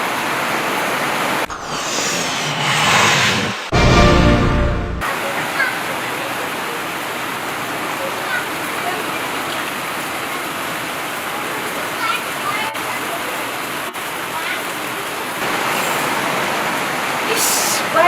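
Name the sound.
heavy rain outside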